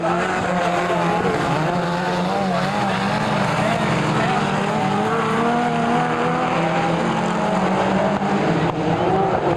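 Midget speedway race cars at Kihikihi Speedway, New Zealand, scream around the dirt oval in a continuous pack, their engines wavering up and down in pitch beneath steady race commentary.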